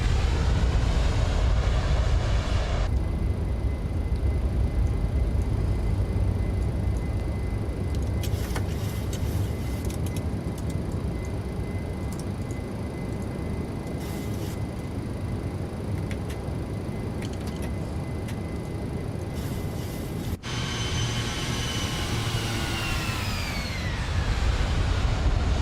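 Simulated jet engines of a Boeing 737 in the PMDG flight simulator roar steadily during a climb after takeoff, a continuous, loud, broadband drone with a shifting whine, and no talk over it.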